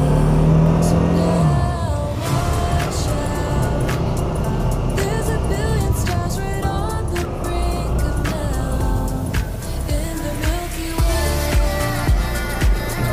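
Motorcycle engine carrying two riders on a trip route from Gunung Dago to Parung Panjang, Bogor, a steady loud drone with rising and falling revs and some wind throughout, no talking.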